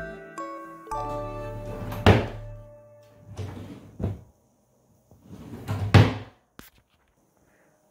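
Drawers of a baby's dresser opening and closing, a few wooden slides and thunks with light rattles over about eight seconds, close and fairly quiet with no talking.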